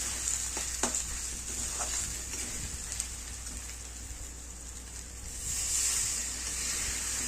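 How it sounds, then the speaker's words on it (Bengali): Spices frying in a pan with oil as they are stirred, a soft steady sizzle with occasional spatters and light scraping, swelling slightly toward the end. "মশলাগুলো ঢেলে দিলাম, একটু নেড়ে চেড়ে সামান্য একটু জল দিয়ে দিলাম।"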